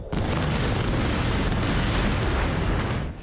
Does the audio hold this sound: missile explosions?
yes